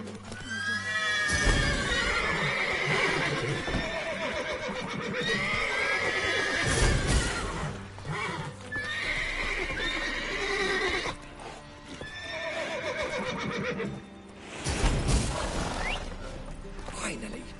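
Horses in The Witcher 3 neigh and whinny in repeated loud bursts, with clip-clopping hooves and a voice talking over the game audio.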